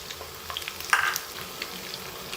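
Whole spices such as cinnamon, green and black cardamom, cumin, black pepper, cloves, coriander seed and fennel fry in a pan with a faint, steady sizzling hiss and a small crackle near the middle.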